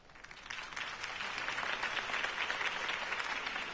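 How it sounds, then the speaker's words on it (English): A crowd applauds after Harvey Dent's campaign speech in a Batman video game, a dense wash of clapping that swells from a soft start and holds steady at a distant, moderate level. "If only Mr. Wayne, my campaign's largest backer, could have heard that applause"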